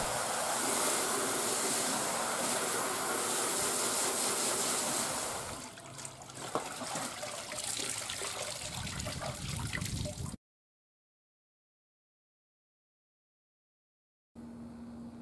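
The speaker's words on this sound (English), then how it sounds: "Nasty stuff that I have to dump before moving to dyeing the overalls purple." Dark dye remover liquid dumped out of a cauldron as a loud, steady rushing pour that eases into splashing and trickling, then stops in silence before a brief return of low background noise.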